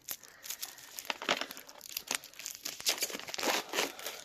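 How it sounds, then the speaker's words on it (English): Close crinkling and tearing of plastic wrap pulled off by hand, without scissors, in irregular bursts, with sharp rips and rustles throughout and no talking. "Seeing if I can get the plastic off without getting scissors."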